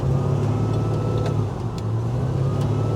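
A 1968 Chevy with a swapped LS V8 engine, stuck in first gear, holds a steady close drone with a strong low hum throughout, the pitch wavering only slightly and briefly dipping in the middle, with no speech.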